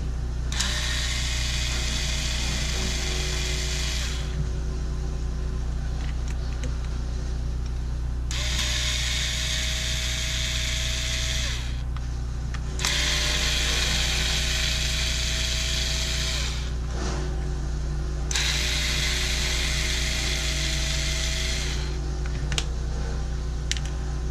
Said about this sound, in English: Let's take the screws out.